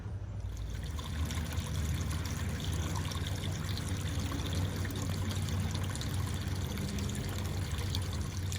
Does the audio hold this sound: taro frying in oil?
no